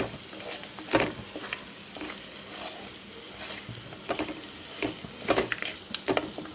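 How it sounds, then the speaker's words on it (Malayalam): Dry amla (nellikka) pickle is sautéed in a pan: a continuous soft sizzle broken by repeated sharp spoon scrapes and clacks at irregular intervals, close by and with no talking. "നമുക്കൊരു 2-3 മിനിറ്റ് കൂടെ ഒന്ന് വഴറ്റിയേക്കാം"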